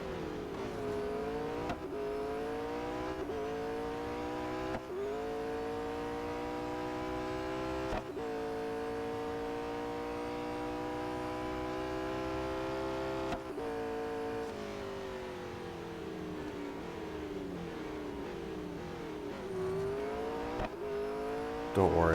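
McLaren Senna race car, fully upgraded, in the video game Real Racing 3, its engine revving and climbing through gears in repeated surges with abrupt shifts, loud and continuous over about twenty seconds.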